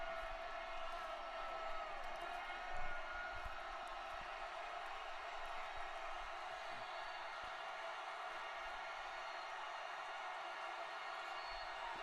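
Steady football stadium crowd noise during an Eagles–Chiefs game on third and 14, a broad continuous roar of many voices at fairly even level with a small swell near the three-second mark and no commentary over it.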